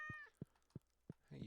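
A cartoonish pet cat meows in the Stardew Valley video game, a bright tonal mew followed by soft footstep-like taps and a short rustling burst, faint and alone.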